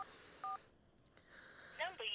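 A phone number being dialed, a quick series of short electronic keypad tones spaced unevenly, ending in a brief warbling chirp, faint and close with no other sound.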